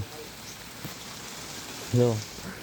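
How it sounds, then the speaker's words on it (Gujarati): A sudden heavy summer downpour makes a steady, soft hiss of rain close by. A brief voice sound breaks in near the end. "અમે કાપતા હતા પીલા અને આવી ગયો ઠામુકો વરસાદ"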